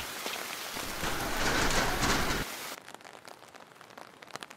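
Steady, dense rain falls in The Bathhouse horror video game, a loud hiss that cuts off abruptly after a few seconds and leaves a faint dripping, sparser patter.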